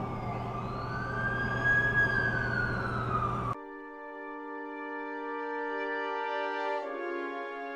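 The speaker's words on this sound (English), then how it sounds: "That's the ambulance I called." An ambulance siren wails loudly in The Amazing Spider-Man 2 video game, a rising and falling tone that cuts off midway into steady, sustained electronic tones.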